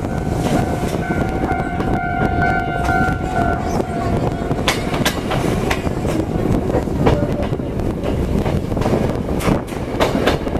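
A Choshi Electric Railway train runs steadily and loud throughout, its rumble and wheel clatter joined by sharp rail clicks and a long humming tone early on, with no voices.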